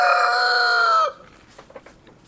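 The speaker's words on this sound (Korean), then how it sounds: "닭도 10대 마리를 키우고 있는데 기특하게도 매일매일 달걀을 낳습니다." Chickens kept on a rural Korean farm, a loud close rooster crow lasting about a second, followed by faint scattered clucks.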